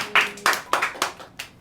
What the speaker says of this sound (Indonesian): boleh tepuk tangan buat kalian.